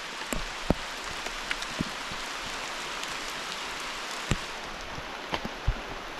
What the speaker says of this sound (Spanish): A mí me gusta que llueve, pero con fuerza.